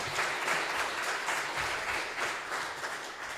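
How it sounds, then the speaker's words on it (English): A congregation at a Unitarian fellowship service applauds musical guests, a soft, steady patter of many hands clapping at some distance, fairly even throughout. "So go ahead and give them a round of applause."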